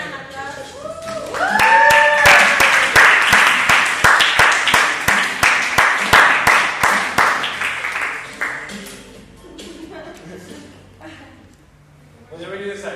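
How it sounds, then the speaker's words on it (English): A class group breaks into applause before a commercial break, a burst of close, lively clapping that builds quickly, holds for several seconds and then fades, with voices talking before it and after it dies down. "Let's give an applause."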